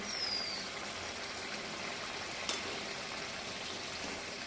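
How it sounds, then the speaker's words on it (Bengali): Fried eggs bubbling in a spicy red sauce in a wok, a soft, steady simmering hiss with faint watery bubbling and one small tick partway through, no talk. "কড়ার মধ্যে ডিমগুলো সমস্ত দেওয়া হয়ে গেছে, দেখো ফুটছে টকবক করে।"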